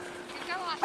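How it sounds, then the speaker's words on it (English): A dog approaches a walker beside a frozen cattail pond on a winter day in Traverse City, whining softly before one sharp, loud bark at the end. "I'm being approached by a barking dog."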